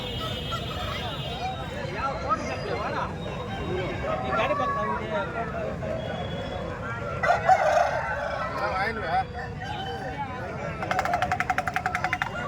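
Roosters crowing and hens clucking at a busy poultry market where roosters and hens are sold, with several crows rising over a dense crowd murmur and people talking nearby.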